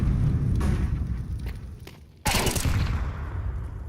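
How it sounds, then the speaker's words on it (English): Gunfire in a Counter-Strike match at the IEM Krakow esports tournament: a sharp, loud burst of shots that cuts in abruptly midway, over steady game noise and crowd ambience. "It's going to be a quick kill on Noda, so an opening frag here for Astralis."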